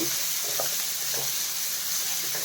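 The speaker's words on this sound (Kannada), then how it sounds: "ಆನಿಯನ್ ಈರುಳ್ಳಿ ಹಾಕ್ಕೊತಾ ಇದ್ದೀನಿ ಇದು ಸ್ವಲ್ಪ ಫ್ರೈ ಆಗಬೇಕು" Chopped onions sizzle and fry steadily in a pan for a turkey berry stir-fry, a continuous close crackling hiss with faint stirring scrapes and no talking.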